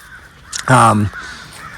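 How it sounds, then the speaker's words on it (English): A single loud, harsh crow caw rings out close by, with a brief fainter call just before it and quiet surroundings. "Excuse the crows. They're very loud."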